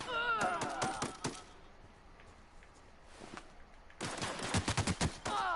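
Gunfire in The Outer Worlds comes as two dense bursts of rapid sharp shots, one at the start and one near the end, with quieter scattered shots between and faint voices in the background.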